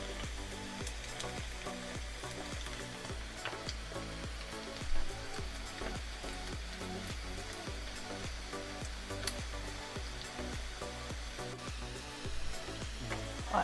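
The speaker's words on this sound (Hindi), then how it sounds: "अब हम दोबारा से इसे डालेंगे अपने ऑयल में" Chicken pieces go back into hot oil for a second fry for black pepper chicken, giving a loud steady sizzle and bubbling hiss with faint knocks of stirring. No one speaks.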